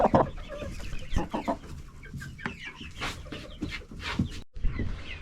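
Backyard coop chickens cluck in quick, uneven bursts, fairly close and moderately loud, with scattered rustling between the calls.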